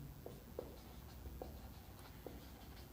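Pen writing out a hyperbola equation answer by hand for a Class 11 maths exercise, a faint scratchy stroke sound with a few brief taps, quiet and steady, with no talk.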